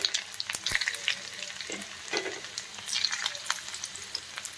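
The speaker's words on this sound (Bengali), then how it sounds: "ফোড়নটা একটু ভাজা হয়ে গেলে প্রথমে দিয়ে দেবো রসুন।" Garlic and whole spices sizzle and crackle in very hot oil in a kadai, with a steady bright frying hiss, scattered pops and occasional stirring scrapes throughout.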